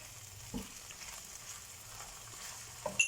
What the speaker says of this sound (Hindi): वेजिस डाल के हम इसे फिर सौते करेंगे।